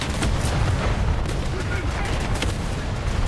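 Tank cannon fire in War Thunder, a sustained roar of booms and gunfire blasts with dense low rumble throughout, loud and continuous, with a voice speaking over it.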